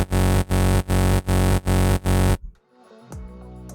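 A saw-wave kick drum synthesized in Vital thumps six times in an even, punchy rhythm, each hit loud and buzzy, then stops and leaves a quieter, thinner tone trailing at the end.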